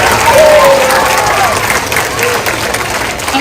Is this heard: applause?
yes